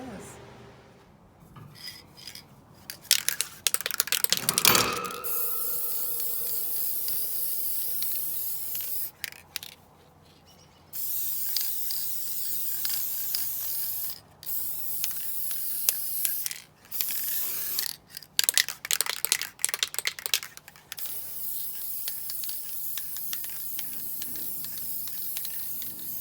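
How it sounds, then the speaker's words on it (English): A spray can hisses in repeated bursts of varying length, separated by quiet pauses, with occasional light clinks and handling noises. "I'm going to take it out and spray it and stick the top on it"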